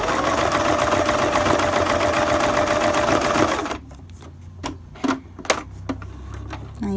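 A domestic sewing machine doing free-motion embroidery runs loud and steady for nearly four seconds, then stops, followed by a few short, irregular bursts of stitching in quieter surroundings.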